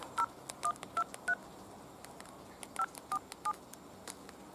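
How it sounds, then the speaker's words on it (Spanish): An old telephone's keypad sounds a quick run of about ten short, crisp dialing tones in two bursts with a pause between them, close and clear over faint background hiss. "así que vamos a marcar un número random"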